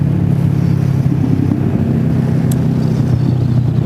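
The two-cylinder engine of a Kawasaki Versys 650 motorcycle runs steadily, a loud, close, continuous low rumble with no change in pitch and no voices over it.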